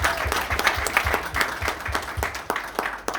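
An audience applauds children after their presentation, a moderate round of clapping with distinct, fairly close claps in an uneven rhythm.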